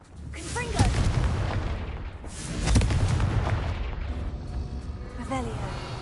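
Repeated Confringo blasting-spell explosions in the Hogwarts video game, a heavy boom near the start and another around three seconds, with crackling debris and a final burst, set against speech and game noise.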